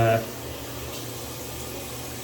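Hard tap water splashes as a face is wetted before a wet shave: a brief, louder splash at the start, then a steady soft hiss of running water close by.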